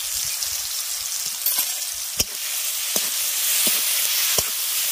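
A paste of ground cucumber leaves, mustard, green chili and garlic sizzling in hot oil, with a steady close fry hiss and a few sharp spattering pops scattered throughout.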